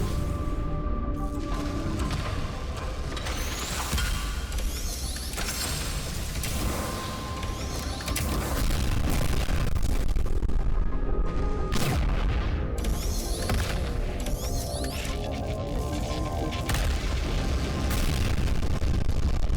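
Booming explosions and rapid gunfire-like bursts from a flying video game, dense and continuous with mechanical rumble throughout, growing louder in the second half.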